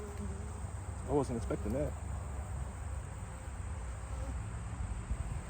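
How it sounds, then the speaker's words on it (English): Bees swarm around an opened beehive during a mid-September inspection, a steady close insect drone running throughout with a brief voice speaking over it near the start. "that's a lot of bees."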